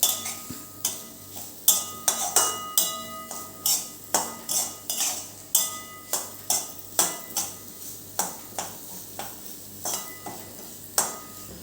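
A spoon scrapes and clinks against a pan while semolina roasts slowly over a low gas flame, in steady, rhythmic strokes roughly every half second, close and clear with a faint sizzle beneath.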